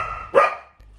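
A single sharp bark from a dog in a home with other dogs and a shy rescue dog, close and loud, rising briefly over a low background rumble and then fading, with no talking.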